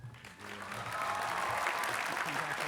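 At a university commencement, a large crowd applauds the conferring of an honorary Doctor of Laws degree, with broad, sustained clapping over a low hum and faint voices.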